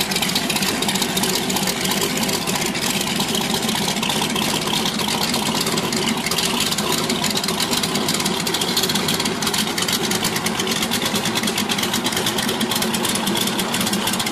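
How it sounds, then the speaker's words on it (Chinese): A modified chopper motorcycle engine idles steadily at close range, a loud, continuous rumble with a slightly knocking, vibrating texture and no talking over it. "大家千万不要觉得这个声音太吵，改装复古摩托声音也是很重要的一个特征"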